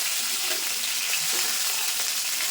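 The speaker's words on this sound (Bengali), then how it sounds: "দেখো এই মাছগুলো আমি ভেজে নেবো" Pieces of boal fish frying in hot oil, a steady, loud, close sizzle and crackle that continues throughout without talk.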